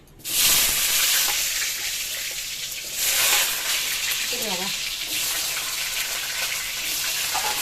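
Cumin seeds and bay leaves hit hot oil and sizzle. The loud, steady hiss flares up at the start, swells again briefly, then settles into a continuous fry.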